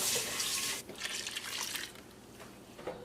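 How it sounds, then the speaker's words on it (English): Running water splashes and gurgles as meat is rinsed, a steady wet rush that breaks into softer trickles and splashes. "I'll rinse it out with a bit of water."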